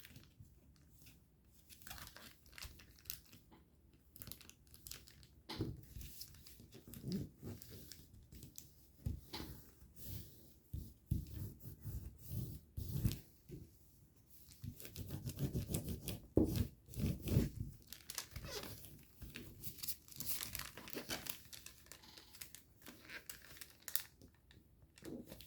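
Paper being folded into an origami jet makes intermittent close, quiet rubbing and crinkling, with soft creasing strokes coming in irregular bursts separated by near-silent pauses.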